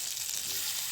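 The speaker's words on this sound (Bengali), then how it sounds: "ফ্রাই করে নিব" Fish, potato and tomato frying in oil: a brief, even, faint sizzling hiss with no talking.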